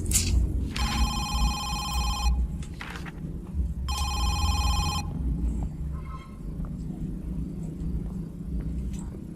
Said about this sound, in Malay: Dia telefon sana, awak angkat telefon dia.